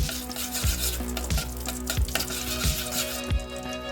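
Whole spices and seasonings sizzle steadily in melted ghee, a tempering for pepper pongal. The crackle stays loud and close throughout, with a spoon scraping the pan about every 0.7 seconds.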